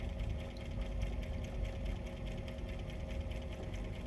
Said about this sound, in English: Then you're going to sew just the large edge together